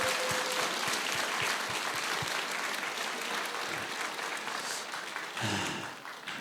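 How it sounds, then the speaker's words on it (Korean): Applause from a congregation during a Sunday church service, steady and fairly distant, with a few louder nearby claps early on and a brief voice near the end. "우리 그분들 건강하시라고 한번 박수 한번 하겠습니다."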